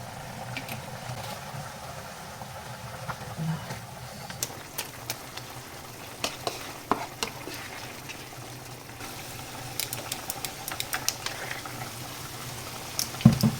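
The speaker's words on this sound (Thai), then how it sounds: "ผัดไปจังหวะ ค่อยๆเคี่ยว ได้เข้มข้น" Chili paste with canned fish simmering and frying in a pan: a steady, close bubbling sizzle with scattered small pops and clicks throughout, and a louder clatter at the very end.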